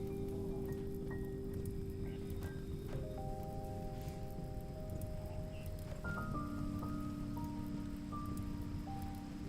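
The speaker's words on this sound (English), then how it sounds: "And it's raining." Steady rain from the colony-building game Rimworld, a continuous soft hiss of drops on surfaces with sustained game music tones layered above, no voices.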